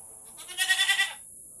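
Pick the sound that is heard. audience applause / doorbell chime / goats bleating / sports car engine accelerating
goats bleating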